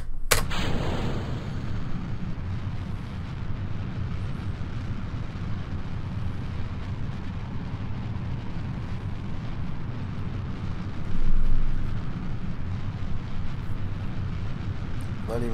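Rocket engines firing on a launch pad in Kerbal Space Program, a sudden ignition burst followed by a loud, sustained broadband roar that swells briefly near the end.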